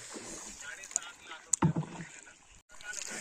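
A small wooden country boat travels over water with steady wind and water noise, a few knocks and splashes against the hull, and people talking over it.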